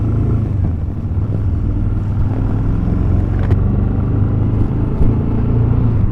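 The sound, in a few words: Royal Enfield Super Meteor 650 motorcycle riding, clutch let out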